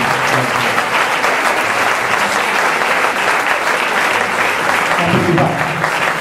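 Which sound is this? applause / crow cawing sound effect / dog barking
applause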